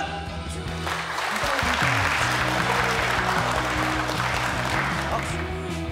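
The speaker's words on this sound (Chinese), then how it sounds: "能够给士气一个掌声" Soldiers at an army company gathering applaud for a comrade, a steady close wash of clapping that continues throughout alongside background music.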